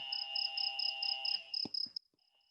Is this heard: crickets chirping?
yes